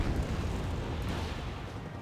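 Bombs detonating in the Wargame Red Dragon battlefield game, a dense continuous rumble of low booming blasts that holds steady throughout without clear gaps.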